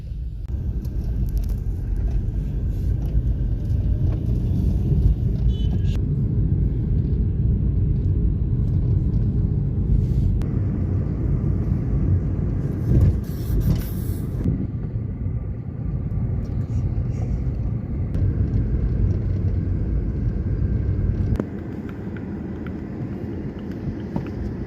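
A car creeping along at near-zero speed, its engine a steady low rumble throughout, close and continuous, with faint traffic noise around it.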